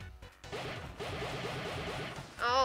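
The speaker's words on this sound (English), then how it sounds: "We're breaking the glass." Glass shatters in Sonic Generations, a video game, with a sharp crash, a rolling whooshing clatter of effects, and a rising tonal sweep at the end, loud and close with no talking.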